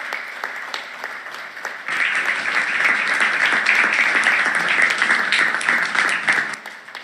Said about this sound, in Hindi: जोरदार तालियां सभी की ओर से।